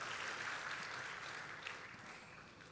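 Continuous applause from a church congregation, a dense wash of clapping that fades slightly toward the end.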